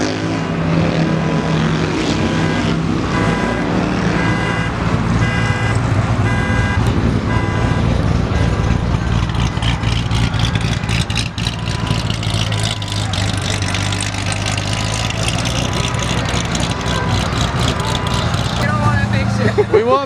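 Car with an Armytrix aftermarket exhaust revving at a JDM and muscle car meet, a loud steady engine drone with rising revs that persists throughout, with crowd noise and voices around it.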